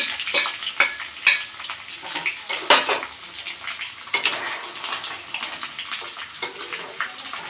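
Curry leaves and garlic frying in oil for mango pickle, with steady crackling sizzle and repeated sharp stirring scrapes of a spoon against the pan, close and fairly loud throughout.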